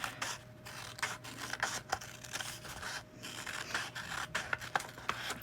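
Scissors snipping out a paper shape, close and quiet, a steady series of short crisp cuts and rustles of paper with no talk.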